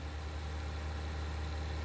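An MTZ-3022DC tractor engine idles in a Farming Simulator 19 mod, a steady low, even drone with a constant hum and no voices over it.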